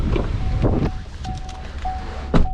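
Gusty wind buffeting the microphone in low rumbling bursts, with a faint steady tone in the background.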